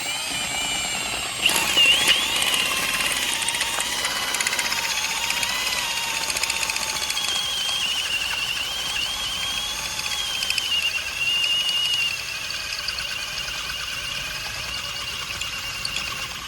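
A drill bit grinds into stripped transmission bolt holes on a K20 transmission, a sustained whining mechanical drone with shifting pitch and a sharp clatter near the start, running continuously at moderate loudness.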